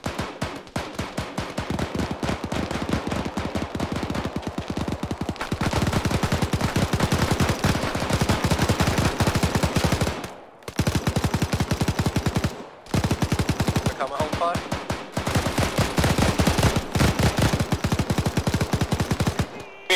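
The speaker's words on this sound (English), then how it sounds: "What are you shooting at?" Sustained automatic gunfire in ARMA 3, long loud bursts of rapid shots rattling almost nonstop, with a few brief pauses between strings of fire.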